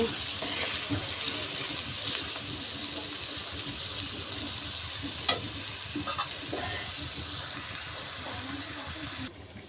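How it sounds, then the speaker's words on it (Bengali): Chopped onions fry in oil in a wok on the stove, a steady close sizzle with stirring scrapes and a few sharp clinks, while someone speaks faintly at times. "চুলায় কড়াই বসিয়ে কড়াইতে তেল দিয়ে পেঁয়াজ কুচি দিয়ে দিয়েছি"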